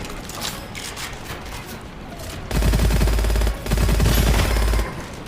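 Rapid automatic gunfire from the first-person shooter Gunfire Reborn, sounding as two sustained loud bursts with heavy low thump, over a dense, busy game soundscape.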